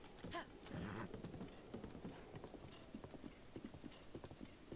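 Hooves clatter in a quick, uneven rhythm, faint and steady, as a horse moves along in Zelda: Breath of the Wild, with soft background noise.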